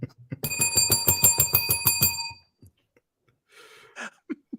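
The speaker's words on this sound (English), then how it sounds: "That bell is horrible." A harsh, shrill bell rings close and loud in rapid repeated strikes for about two seconds, then stops abruptly, followed by brief murmuring voices.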